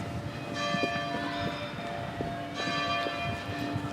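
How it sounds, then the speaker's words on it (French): A large hand-pulled bell at the gate of a cathedral palace rings several times in a repeating pattern. The tone is bright, metallic and resonant, with some rustling noise around it. "il y a une grande cloche juste sur la gauche, et en fait, il faut tirer dessus"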